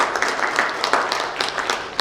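Applause from an audience at an engineering, iron and steel industry report event: a steady wash of clapping that stays moderately loud through the whole moment, with no speech over it.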